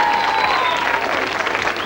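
A studio audience on a 1987 BBC children's television programme claps steadily, a dense, even wash of applause lasting a couple of seconds with no break.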